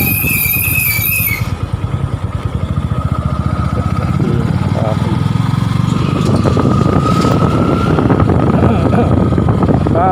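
Rear drum brake on a Yamaha FZi motorcycle squealing loudly and continuously as the bike rolls, a steady high-pitched screech over rumbling road and wind noise, with a louder grinding burst partway through.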